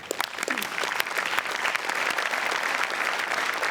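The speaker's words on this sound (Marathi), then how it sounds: "सर्वप्रथम तुमच्या या सामाजिक जाणीवेबद्दल मला खूप टाळ्या वाजवायच्या वाटतात" A studio audience at a Marathi comedy reality show breaks into dense, sustained applause, loud and close, with steady clapping filling the whole stretch.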